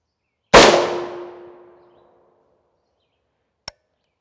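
A single loud, close rifle shot strikes a Level III+ Tactical XMEN Universal Armor plate with a sharp crack and ringing metallic decay lasting over a second, followed by a faint short click.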